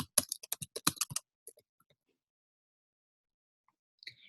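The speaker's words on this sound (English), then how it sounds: "you can go ahead and type that right here" Quick clatter of computer keyboard keys during a promotion setup, a dense burst of clicks for about a second, then a couple of stray taps and a faint click near the end, close and fairly quiet.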